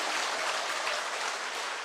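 Steady audience applause, a dense wash of clapping holding at even loudness throughout, with no voices on top.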